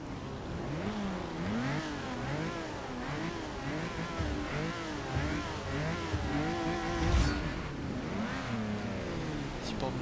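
A classic road-racing sports car in Forza Motorsport 6 launches with a sustained, rising engine drone that climbs through long gears, loud and steady throughout, with a voice talking over it.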